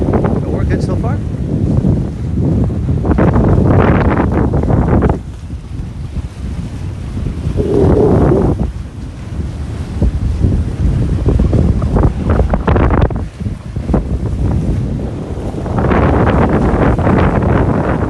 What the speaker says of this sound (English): Today, the waves are just going at it.